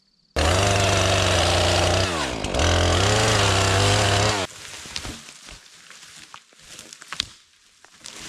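A chainsaw roars loud and close while cutting the top part of a log for an off-grid cabin build in Alaska, holding a steady high whine with a brief dip midway, then cutting off to quiet outdoor rustling and knocks.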